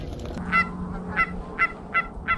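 Canada geese honking near decoys on a goose hunt in eastern Montana, five short nasal honks spaced at a steady rhythm, moderately close, over a faint low rumble of outdoor background.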